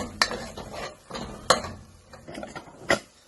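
Ground curry paste and onions fry in a pan for chicken curry while a spoon stirs, making three sharp scraping strokes spaced over a low, quiet background with softer clinks between.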